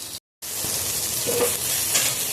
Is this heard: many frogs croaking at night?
no